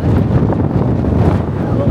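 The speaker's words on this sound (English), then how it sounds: "the wind is going crazy" Strong outdoor wind with snow on a winter walk toward an arena in Trondheim roars steadily and loudly into the microphone, a dense low buffeting rumble running the whole time with a faint voice beneath it.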